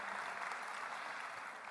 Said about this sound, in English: So let's give all the speakers up here another round of applause for just crushing it.